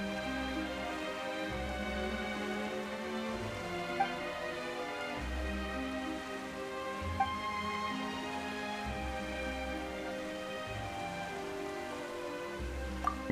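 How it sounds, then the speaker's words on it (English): Sudden rain in Genshin Impact, a steady wash of rainfall pattering on surfaces with faint drips, continuous and fairly close under a low pulsing background score, with no talking. "Why is it raining all of a sudden?"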